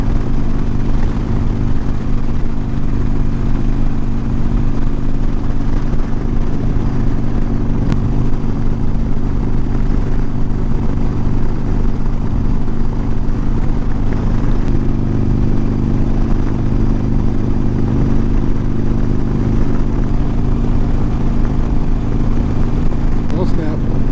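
A Harley-Davidson Sportster motorcycle being ridden, its engine a steady, loud, unbroken drone for the whole stretch, mixed with constant rushing wind noise.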